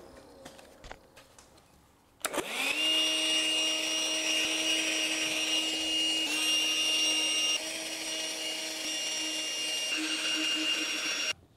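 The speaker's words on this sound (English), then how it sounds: "Just using this little handheld vacuum." Small handheld vacuum cleaner switching on after two quiet seconds, then running steadily with a high whining tone close by, used to clean debris out from around a BMW 535i E60 valve cover area.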